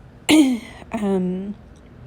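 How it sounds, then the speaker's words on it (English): Two short, throaty clearing sounds close by, separated by a brief pause, with quiet in between and after. "I'm sorry, I keep clearing my throat"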